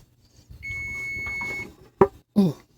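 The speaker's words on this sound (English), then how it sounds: "the timer's getting ready to go off" A kitchen timer going off while cookies bake: a thin, steady high beep holds for about a second over low kitchen noise, followed by two loud, sharp clunks, like an oven door or pan being handled.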